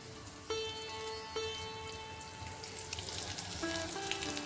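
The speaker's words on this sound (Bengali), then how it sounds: "ভেন্ডিটা ভেজে নিচ্ছি, ডিমটা ভেজে নিচ্ছি" Okra and egg frying in hot oil, a steady crackling sizzle with a few brief tonal clinks at the start, close and alone without talk.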